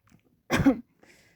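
A single short, throaty cough bursts out clearly against near silence, outdoors by farm fields in a village in the morning, with only faint background sound before and after.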